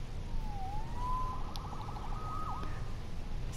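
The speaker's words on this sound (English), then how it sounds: "Saved by the siren." A wailing police siren from the Marvel's Spider-Man video game rises and sweeps in a clear tone with a quick yelp near the end, heard alone over a steady low rumble of city ambience.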